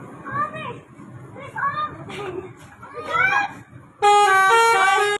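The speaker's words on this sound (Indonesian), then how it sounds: "Klakson telolet dapat mengganggu kinerja rem angin pada kendaraan yang memasangnya" Children's voices and chatter, then a bus's telolet horn blares loud and sustained near the end, a bright multi-tone musical honk.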